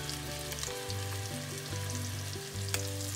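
Veal shanks sizzle and fry steadily in a pan with a garlic clove, a continuous close crackle with faint scraping, no voices.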